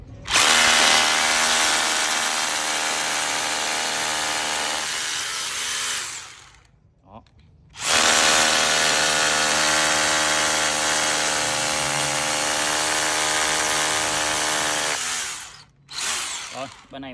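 A power drill with a Hilti four-edge bit made in Germany drills in two long, loud, steady bursts with a short pause between them, followed by a brief restart at the end.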